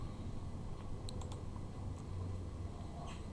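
Soft clicks of fingers typing on a computer keyboard while entering a formula into a spreadsheet cell, a few scattered keystrokes over a low steady background hum.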